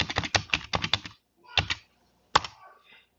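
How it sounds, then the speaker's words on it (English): Password typed on a computer keyboard at an Ubuntu Linux terminal: a fast burst of close, crisp key clicks, then a pause, a single keystroke, another pause and one last keypress. "Then type it again."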